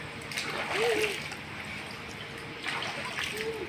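Water splashes during night swimming in a resort pool as someone washes their face, two bursts of splashing and trickling with faint voices in the background.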